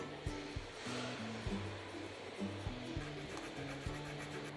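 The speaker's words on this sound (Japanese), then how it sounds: "ここを軽く ヤスリとかで磨いてあげましょう" Steady rasping strokes of a hand file smoothing burrs on a 3D-printed part for a Tamiya M-06 RWD conversion RC car, repeated back-and-forth rubs at close range with no talking.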